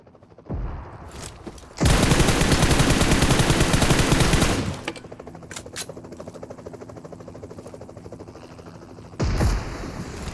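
Heavy automatic gunfire in PUBG Mobile, a loud sustained burst of rapid shots lasting a few seconds, followed by scattered quieter shots and a final short burst.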